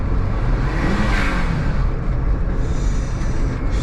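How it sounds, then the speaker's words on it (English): A Daihatsu Mira revs hard and lets off through its blow-off valve, a steady loud engine roar with a whooshing hiss riding on top, all close by and continuous with no talk. "Sweet, sweet, sweet blow off valve."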